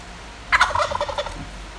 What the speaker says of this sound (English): turkeys talking to me.